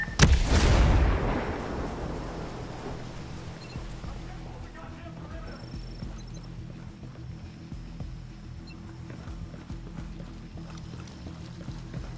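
A grenade goes off in the Ghost Recon Breakpoint shooter game: one loud, close blast opens the clip and decays over about two seconds into a low rumble, with faint tonal game sounds after it.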